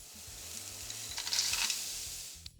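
Shallot, garlic and ginger sizzle as they are stir-fried in a pan for fried rice, a steady frying hiss with a few stirring scrapes and a sharp clink near the end.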